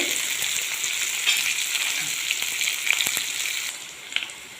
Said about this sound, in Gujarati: ડુંગળી નાખીશું। ડુંગળી થોડી ફ્રાય થવા દેવાની છે।